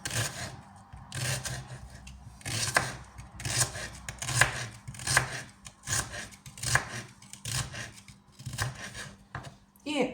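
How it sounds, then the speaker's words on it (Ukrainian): A knife thinly slices onion on a board for a salad, giving steady rhythmic chopping cuts with a voice talking softly underneath. "Тепер беремо нашу цибульку, будемо нарізати так. Отак. Тонесенько."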